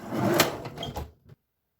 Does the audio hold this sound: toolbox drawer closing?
yes